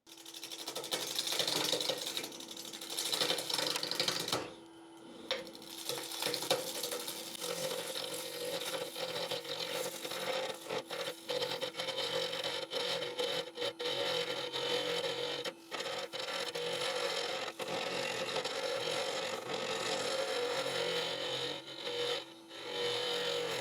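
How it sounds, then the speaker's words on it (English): A lathe turns the inside of an epoxy bowl, a continuous scraping and rasping cut with a faint steady whine. It holds fairly even throughout, broken by one brief pause and a few sharp catches. "I'm going to face up the bowl and start turning on the inside."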